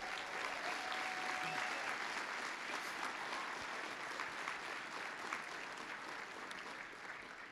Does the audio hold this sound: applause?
yes